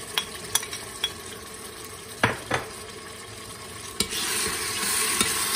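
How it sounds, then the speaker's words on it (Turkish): Tomatoes and peppers sautéing in a pan for a Turkish meat and dried bean stew, with a steady frying sizzle and several sharp clicks and scrapes of a utensil stirring against the pan, close by with no talk. "Biraz da bunu şöyle kavuruyorum."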